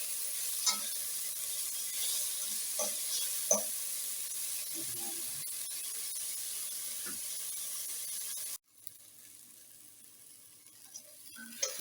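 Onions fry in a pan with a soft, steady sizzle and occasional stirring scrapes, then the hiss drops sharply as the heat changes, settling into a quieter crackle that rises again toward the end.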